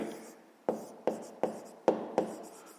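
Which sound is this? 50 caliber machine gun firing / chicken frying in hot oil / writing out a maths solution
writing out a maths solution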